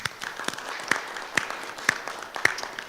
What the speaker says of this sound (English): Let's give that another round of applause, please.